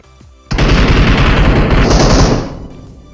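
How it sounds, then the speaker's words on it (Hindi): Gunfire in PUBG Mobile (BGMI): a loud burst of rapid shots starts abruptly and runs for about two seconds, then fades away, with no talk over it. "तो भाई यहाँ पर गोली चलती है"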